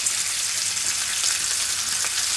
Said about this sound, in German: Danach kommen gleich die Würstchen rein. In die Pfanne.